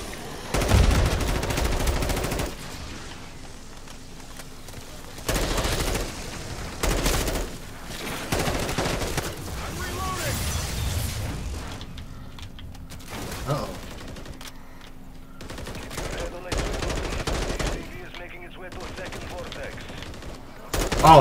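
Gunfire from vortex enemies in Call of Duty Modern Warfare 3 Zombies, with repeated bursts of loud shots and rattling volleys separated by quieter gaps, mixed with game mechanisms and clatter.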